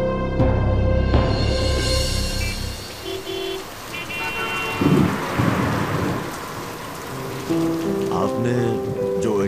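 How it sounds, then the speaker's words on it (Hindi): Heavy rain pours steadily with deep rumbles of thunder rolling underneath, a dense, continuous wash of sound with no talking. "बारिश बहुत तेज हो रही है"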